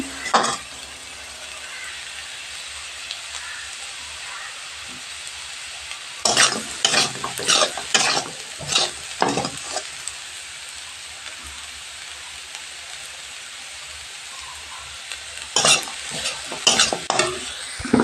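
Potatoes and meal maker soya chunks sautéing with chilli powder in a pan: a steady soft sizzle runs throughout, broken by bursts of scraping stir strokes in two clusters, close and without talk.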